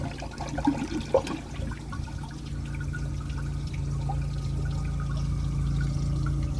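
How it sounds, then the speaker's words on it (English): A 2003 Mancesa Acuacer toilet tank draining its remaining water, a steady low rushing gurgle that holds on throughout, with a few brief knocks near the start. "I'm just going to empty the rest of the water from the tank"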